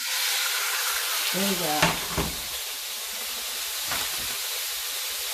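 Food sizzles and hisses steadily in an overheated pan, a loud continuous frying wash with a few stirring scrapes, while a voice speaks briefly over it.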